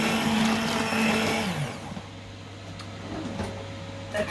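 A blender whirs loudly through leek and potato soup for about a second and a half, then cuts out, leaving a low hum and faint clinks.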